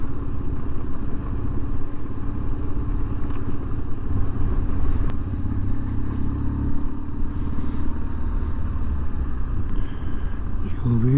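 A motorcycle without ABS runs steadily on the road, its engine a constant droning hum with wind noise and no clear shifts, while a rider talks over it.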